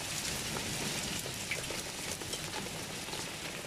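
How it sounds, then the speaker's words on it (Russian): Large hailstones pelt down outdoors in a dense, continuous clatter, a steady hissing patter of many hard impacts with no voices heard. "У нас огромный град."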